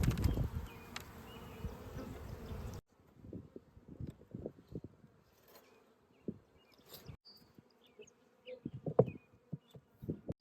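Honeybees buzz around an open hive during a spring inspection of a small overwintered colony, a steady drone at first, then scattered close passes and light clicks of frames and handling.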